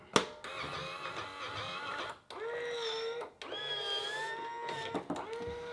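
A Powermatic 3 Plus electric cigarette rolling machine whirs in several bursts, its motor whine rising and falling, with brief clicks and pauses between cycles.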